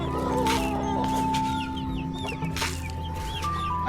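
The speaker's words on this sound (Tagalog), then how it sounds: "Tangan na, grabe, nagkakagawan din yung mga sisiw." Chicks cluck and cheep excitedly as they scramble over wet feed in a simple chicken coop, a busy, continuous chorus of near peeps over steady background hum.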